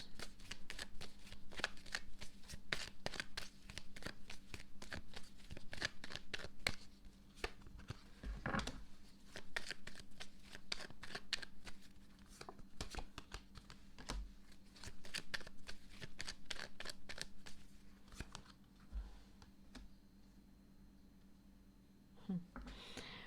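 Tarot cards being shuffled in a zodiac reading for Sagittarius, a long run of crisp, rapid riffling and slapping bursts close up, with occasional quiet talk beneath.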